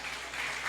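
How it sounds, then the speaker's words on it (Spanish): Church congregation applauding during a Spanish-language sermon, a brief steady wash of clapping at moderate level with no voices. "Dele un aplauso al Señor."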